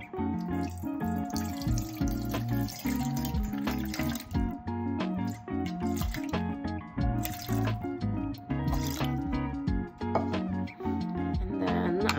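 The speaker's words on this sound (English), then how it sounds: "So we're gonna start with adding the water, and I usually like filter water." Filtered water pours into a bowl for homemade bread dough, a steady close trickling and splashing that runs on loudly and without a break, with no talk over it.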